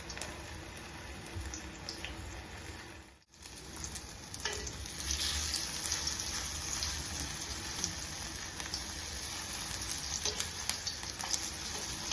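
Sweet potato cutlets sizzle in oil in a frying pan, a steady close crackle and hiss that dips briefly near the start before resuming evenly, with no talking.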